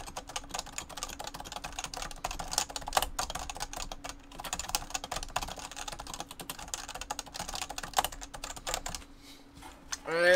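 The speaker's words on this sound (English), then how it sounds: "And loud typing." Loud typing on a computer keyboard, heard as dense, forceful, rapid key clacks close up over ten seconds, with brief pauses and a low steady hum beneath.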